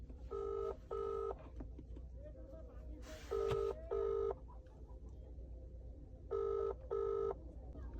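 An outgoing phone call on speakerphone gives repeated paired ringback tones, two short beeps at a time in three groups, loud and clear over a steady hum and faint background voices.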